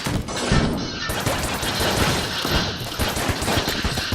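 The witch pistol in the video game Enter the Gungeon fires dense, rapid bursts of close, loud shots, layered with crashes and impacts throughout.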